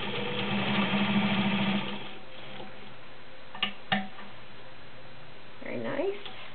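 A vintage all-metal White model 130 heavy-duty straight and zigzag sewing machine stitches through five layers of dense, rubber-backed woven upholstery fabric, a steady close whirring run for about two seconds, then quiet with a couple of sharp clicks and brief handling noise.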